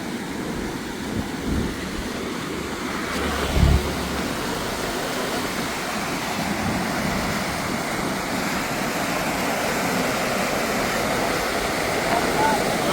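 Steady rushing of a fast-flowing river, constant and fairly close, with a brief low thump partway through.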